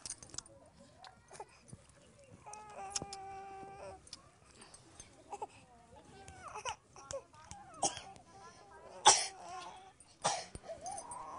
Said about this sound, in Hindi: जब देखो तब ये खांसता रहता है